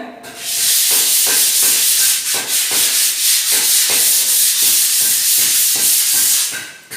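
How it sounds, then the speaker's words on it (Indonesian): Light hand-sanding of a newly plastered wall before priming gives a loud, close, rhythmic scraping rasp in quick back-and-forth strokes that runs without pause. "Sebelum cat dasar, gosok dulu. Gosok selayang dulu ya."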